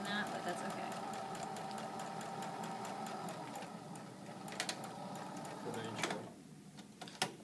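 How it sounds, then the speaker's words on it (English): Sewing machine stitching a cuff seam at a quarter inch, a steady close mechanical whir with rapid needle ticking that slows and stops near the end, under a voice explaining. "you're just going to sew it at 1/4 inch"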